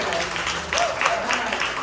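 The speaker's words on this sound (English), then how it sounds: "So a round of applause for Andrew" An audience at the ArtAbility show at the Paramount applauds performer Andrew DeClara, a steady wash of many hands clapping at moderate loudness with voices mixed in.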